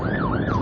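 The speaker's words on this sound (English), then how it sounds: "It's an ambulance." A passing ambulance wails with a loud, close two-tone rising and falling siren, sweeping steadily over road noise with no talking.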